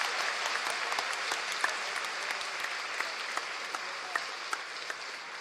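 An audience claps continuously at an official event for Ayush doctors, a dense, steady wash of applause with a few sharper individual claps standing out, no voices heard.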